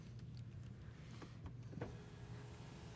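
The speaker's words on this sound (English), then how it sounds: "power sunshade with panoramic moonroof." The power sunshade under the panoramic moonroof of a 2022 Lexus ES 350 Ultra Luxury sedan runs with a faint, steady electric motor hum inside the quiet cabin. A few soft clicks and rustles sit over the drone.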